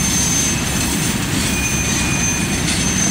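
A CSX freight train rolls past on the railroad, a loud, steady roar of wheels on rails with faint squealing tones and clatter, continuous throughout at close range.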